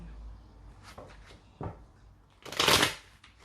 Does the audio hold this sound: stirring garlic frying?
no